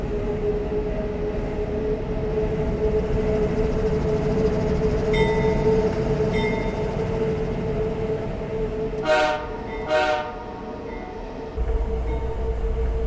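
A CP AC4400 diesel locomotive in Train Simulator 2020 rumbles steadily with a low engine drone, and its horn sounds two short blasts partway through, followed by a deeper rumble shift.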